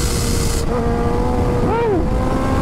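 A Kawasaki Ninja H2 motorcycle ridden at half throttle gives a loud, sustained engine roar mixed with heavy wind rush, with a brief swooping change in pitch near the end.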